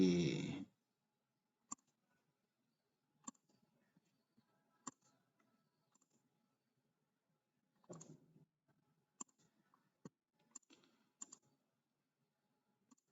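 A computer mouse clicks sharply and sparsely on a desk during PowerPoint work, single clicks spaced a second or two apart with a few quick double clicks, in a quiet room after a brief opening noise.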